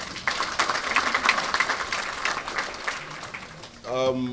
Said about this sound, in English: May I kindly just ask for one more round of applause for Mr. President.